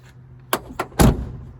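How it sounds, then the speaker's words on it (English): Doors of a 1999 Jeep Cherokee Sport open and close: two light clicks of a latch followed by a heavier solid thunk as a door shuts, close by against quiet background. "Nice happy sound when they open and close."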